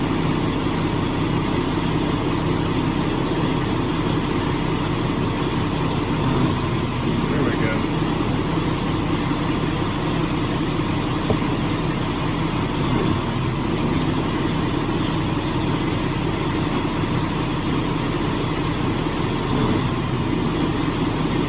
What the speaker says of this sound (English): it's changing the way the truck's idling by putting it in gear